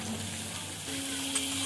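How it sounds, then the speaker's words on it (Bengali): Potato and onion frying together in mustard oil in a wok, a continuous near sizzle with light stirring scrapes, no talk over it. "আলু পেঁয়াজ একসঙ্গে ভাজা ভাজা করে নেব।"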